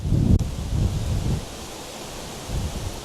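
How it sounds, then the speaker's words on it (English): A big gust of wind buffets the microphone outdoors: a loud, rough rumble at the start that eases off and then swells briefly again. "Big gust of wind."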